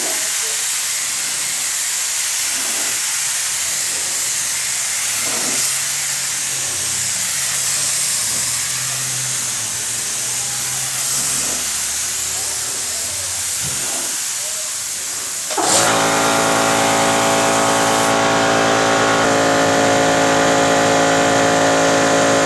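A paint spray gun driven by a 25 to 50 litre air compressor hisses steadily for a long stretch, then the compressor motor kicks in loudly with a droning, humming whine.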